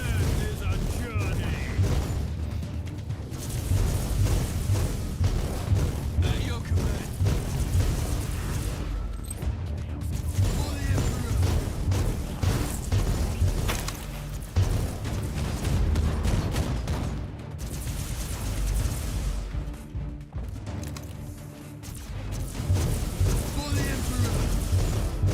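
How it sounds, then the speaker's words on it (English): Dense, continuous battle noise from War Thunder, with weapons fire and explosions rumbling and crackling nonstop for the whole stretch at a steady, loud level. "Thundering blast of weapons."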